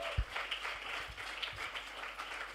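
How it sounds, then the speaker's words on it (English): Audience applause after a documentary screening at a film event, a scattered clapping texture held steady for a few seconds, fairly quiet and slightly distant. "Can you give her another round of applause, please?"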